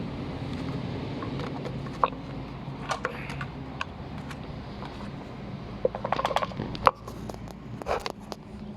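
Clicks and light metallic rattles of gears in the wheel of a Victa Razorcut 16-inch push reel mower, irregular and close, denser near the end.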